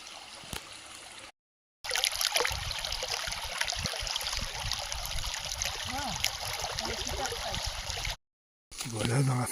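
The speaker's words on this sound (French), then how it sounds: "Au milieu du cours d'eau." Water trickling and gurgling in a forest stream, a steady close babble broken by two short silent gaps, with a voice speaking over it at times.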